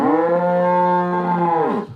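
A single cow lets out one long, loud, close moo that holds a steady tone for almost two seconds before it trails off.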